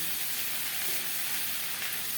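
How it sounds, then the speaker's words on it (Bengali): Broad beans dropped into hot oil spiced with mustard seeds give a continuous, even sizzle and hiss, close up and fairly loud, with no talking. "এখন কেটে ধুয়ে রাখা শিমগুলো দিয়ে দিলাম"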